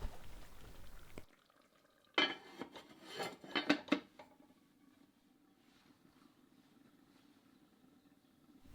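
A pot lid clanks and a spoon stirs in a braising pot of lamb shank with thyme and bay leaf, a few sharp metallic knocks and scrapes in the middle, then a low steady simmer.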